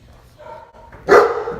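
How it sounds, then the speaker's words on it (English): A German Shepherd gives one sudden, loud bark close by after a few quieter soft sounds. "So we brought in Callie, a German Shepherd who likes to hear her own voice"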